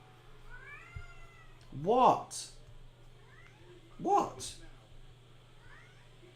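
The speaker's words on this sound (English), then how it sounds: "Why are you meowing?" A cat meows twice, loud and close, with long rising-falling calls about two seconds apart. Someone speaks briefly, and a steady low hum runs underneath.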